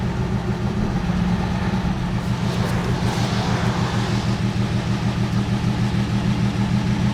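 A 1969 Mercedes car engine running while driving, a steady low rumbling drone with even mechanical throb, close and continuous, with a faint brief rise in the middle.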